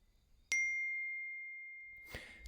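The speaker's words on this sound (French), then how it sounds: "Il part, je reçois un SMS." A single bright text-message notification ding on a phone rings out clearly against near silence, its pure tone sustaining and slowly fading, followed by a faint rustle.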